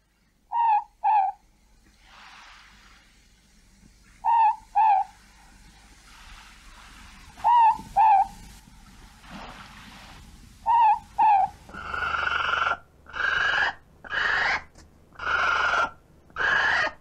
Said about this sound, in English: our two most famous nighttime birds, the ruru, little night owl or moorpork,